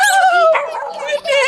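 A puppy at a dog rescue whimpers and yips in thin, high, drawn-out cries that carry clearly with little talk around them.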